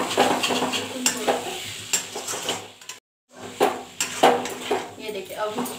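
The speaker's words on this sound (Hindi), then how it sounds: "अब हम इसमें ये कटे हुए टमाटर डाल देंगे, इसको भी थोड़ा सा फ्राई कर देंगे।" Chopped tomatoes sizzle in a pan with spices and cooked capsicum for an aloo capsicum sabzi, with repeated stirring scrapes and utensil clatter, close up, broken by a brief silent gap.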